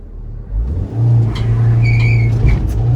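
A vehicle engine revs up close and loud, with the note climbing and holding as it accelerates, plus a few sharp squeaks over the drone.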